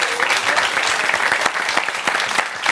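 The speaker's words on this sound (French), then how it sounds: "On peut les applaudir et vous saluer." Loud, dense applause from an audience at a Corsican university event in Ajaccio, many hands clapping close and continuous with a few sharper individual claps standing out throughout.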